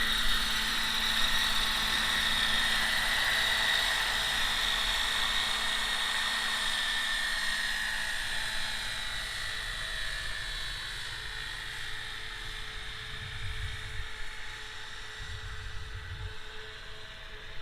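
A large-scale 800-size Roban EC130 radio-controlled helicopter flies, its engine whining steadily with a bright turbine hiss, the pitch easing down as rotor thumps grow more noticeable toward the end.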